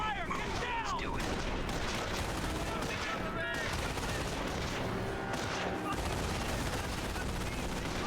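Dense gunfire in a World War II shooter video game: sustained rattling machine-gun bursts and rifle shots mixed with booming explosions, loud and continuous, with occasional voices in the mix.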